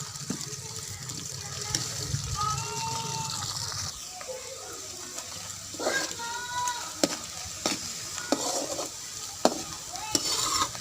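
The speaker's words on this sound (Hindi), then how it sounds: "अब प्याज को ब्राउन करेंगे।" Onions frying in a pan while being stirred, a continuous sizzle with occasional scrapes and clinks of a utensil against the pan, and a voice speaking briefly during the cooking.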